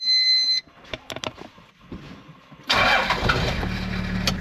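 A car engine cranking and starting after a repair: brief clicks and stuttering attempts, then the engine catches and settles into a loud, steady idle close by.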